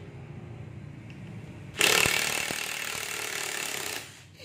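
A power screwdriver with a two-speed switch starts up abruptly after a quiet hum and runs at a steady, loud whirring drone for about two seconds, with faint clicks, before winding down.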